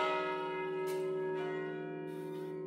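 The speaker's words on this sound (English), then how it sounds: "James and the McShane Bell Company maintain these bells as they ring every 15 minutes" Chromatically tuned church bells maintained by the McShane Bell Company ring out in a sustained, resonant tone that rings on and slowly fades, with fresh strikes layered in.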